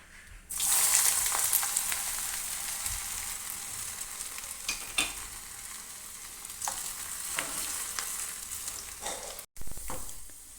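Thin, long slices of ginger dropped into oil left from frying beef for a Kerala-style beef pickle burst into a loud, close sizzle after half a second and keep crackling steadily, with a brief cut near the end and no speech.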